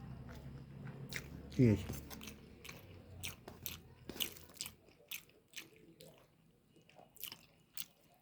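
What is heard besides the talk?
eating hot rice, chewing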